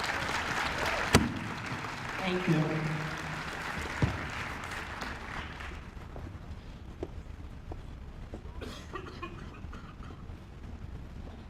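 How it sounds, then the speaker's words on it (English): Audience applause at an Essex County freeholder meeting for the newly named freeholder president and vice president, a dense clapping wash that gradually thins and fades, with a brief spoken voice near the start. "join me in giving them an encouraging round of applause"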